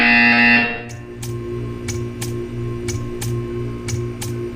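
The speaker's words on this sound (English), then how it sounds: "You will hear a buzzer." A high electronic tone cuts off, then a series of sharp clicks ticks at a steady pace over a low hum, from a buzzer sequence in the Portal 2 video game.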